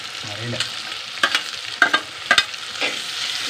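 Tomatoes are tossed into a frying pan with softened onions for a soya curry, giving a steady sizzle broken by several clacking stirs of a spatula against the pan.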